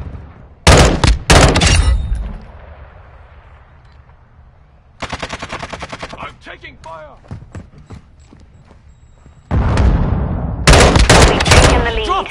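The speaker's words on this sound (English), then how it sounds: "Taking fire!" Video game firefight with bursts of automatic gunfire, loud and close, coming in clusters with a gap of quieter background in between, along with in-game voice callouts.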